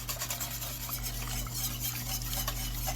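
A spoon stirs tempered eggs into a milk mixture in a bowl, producing soft, repeated scraping and swishing strokes, quiet and close with a low hum beneath and no talking.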